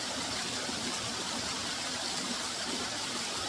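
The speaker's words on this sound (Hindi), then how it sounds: "बहुत ही खूबसूरत झरना है" A waterfall pours in a steady, dense rush of falling water, constant and close with no pauses or voices.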